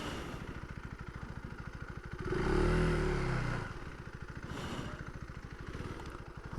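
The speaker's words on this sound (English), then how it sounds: "the bike sounds great" KTM 390 ADV R single-cylinder motorcycle pulling away, a close, pulsing engine that swells in a brief rev before settling back to a lower, steady thrum.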